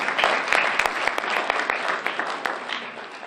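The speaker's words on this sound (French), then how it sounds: "Clap for Jesus." Church congregation clapping together during a bilingual English-French sermon, a dense, steady wash of many hands with a few sharper claps standing out, sustained and fairly close throughout.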